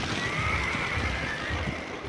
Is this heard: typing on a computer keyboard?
no